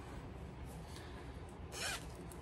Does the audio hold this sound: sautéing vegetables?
no